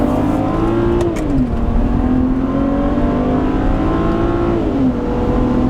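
A 2008 BMW 335i E90 sedan with the twin-turbo N54 straight-six accelerating at full throttle, engine note rising steadily, dropping briefly at a gear change and climbing again, loud and continuous from inside the car.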